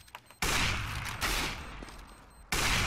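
Bursts of gunfire in a shooter video game: a loud volley that fades over about two seconds, then a second sharp burst, with no talk over it.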